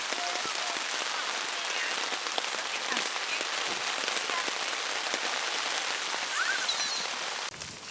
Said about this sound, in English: It sounds pretty wet out there.